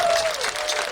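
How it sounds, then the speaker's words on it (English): A crowd applauds at an outdoor rally on a hot day, a short burst of dense clapping. "Give yourselves a round of applause."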